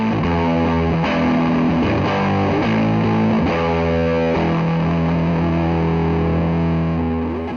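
Heavily distorted electric guitar through a MAGUS Pro distortion pedal plays a chugging riff with sustained chords, thick and saturated, with no voices.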